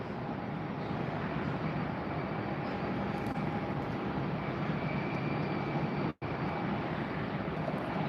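Aircraft at Tampa airport give off a broad, continuous jet engine roar that stays loud and steady throughout, apart from one brief dropout.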